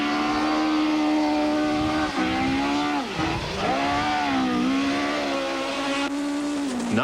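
A Volkswagen rally car driving hard on dry stony roads, engine droning loudly from inside the cabin with rising and falling revs through gear changes, a continuous close roar.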